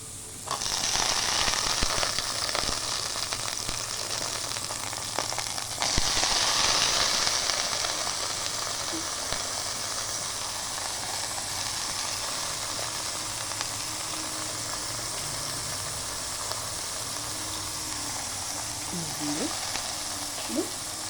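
A quarter kilo of eggplant pieces sizzles in a pan with cooked onions, a loud burst of frying at first that settles into a steady crackle, with a few clinks near the end.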